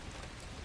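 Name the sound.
rain sound effect in a horror story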